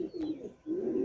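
Red-headed baby pigeons of a high-flying Madrasi breed coo in two soft, low, rolling phrases close by, brief and without talk.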